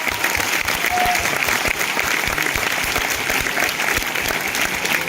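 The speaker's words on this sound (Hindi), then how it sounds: "तो आप अपने लिए एक जोरदार ताली बजाएं।" An audience at an indoor anniversary business event applauds loudly and continuously, a dense sustained clapping with no talking over it.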